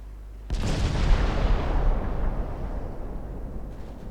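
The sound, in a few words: torpedo hits exploding on enemy ships, naval video game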